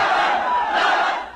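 A huge crowd cheers and roars at a political rally for Aquino in Manila: a dense, sustained wall of many voices shouting together, loud and steady throughout with no single speaker standing out.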